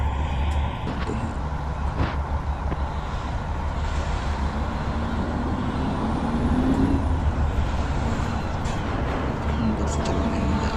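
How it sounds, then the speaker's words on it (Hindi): A heavy-load truck drives at night in a truck video game, giving a steady, continuous engine rumble and road noise that holds for the whole stretch without letting up. "गाड़ी का आवाज़ सुनिएगा ना।"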